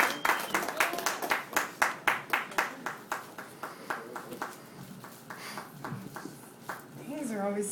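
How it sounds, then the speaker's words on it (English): Audience claps for a comic at a comedy show, starting as a rhythmic round of claps that loosens into scattered applause and cheering before a voice begins. "Let's hear a round of applause for our second lady comic of the evening, Miss Julia Ingalls."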